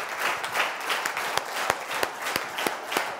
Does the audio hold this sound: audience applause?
yes